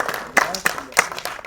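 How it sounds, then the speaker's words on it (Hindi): Applause breaks out for a guest at a Hindi film trailer launch event, with bursts of clapping rising and falling over several seconds amid a lively room. "अवन्या के लिए एक बार जोरदार तालियां"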